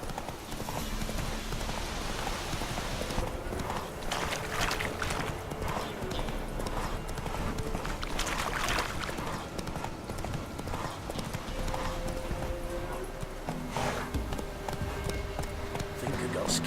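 Roach, a horse in The Witcher 3, gallops in a steady, rapid clip-clop of hooves that runs throughout over a loud wash of wind and game ambience, with someone speaking briefly.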